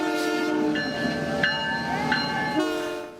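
The Canadian Pacific Holiday Train rolls past with its horn sounding, a loud multi-tone blare sustained over the rumble and clatter of railcars, with brief pulses in the horn partway through before it cuts off.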